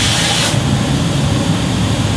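Caswell Spray Chrome hisses from an aerosol spray can in a short, close burst, then gives way to a steady low rumble of background noise.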